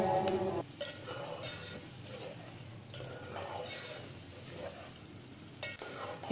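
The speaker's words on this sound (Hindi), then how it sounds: "इसको आप अच्छी तरीके से मिक्स कर लीजिए इसके अंदर" Chicken and yogurt for a green curry are stirred in a pan, making soft, repeated scraping strokes over a faint low sizzle, with a few light clinks and no voices.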